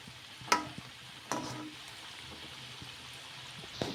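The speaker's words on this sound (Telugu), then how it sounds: "ఇలా మధ్య మధ్యలో కలుపుకుంటూ క్రిస్పీగా అయ్యే వరకు ఫ్రై చేసేసుకోవాలి." Pakoda fries in hot oil with a soft, steady sizzle while a utensil stirs it now and then, making a few distinct scraping clinks.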